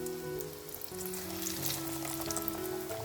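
Flour-coated pork cutlets deep-frying in oil at about 160°C over medium heat. A loud, dense, continuous crackling sizzle fills the whole stretch, with soft sustained musical tones beneath.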